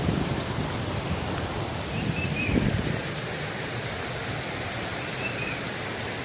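Water flowing from a dam toward the Nira river gives a steady, broadband rushing wash, even and unbroken throughout, with a faint brief swell near the start and no voices.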